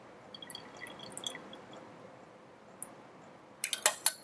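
Water is released from a lever-operated dispenser into a salt solution in a lab. Faint scattered drips sound over a quiet background, then a short cluster of louder, close drops and splashes comes near the end.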